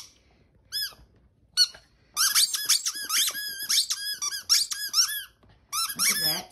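Squeaky dog toys squeak repeatedly in rapid, irregular bursts, loud and close, with short silent gaps between clusters.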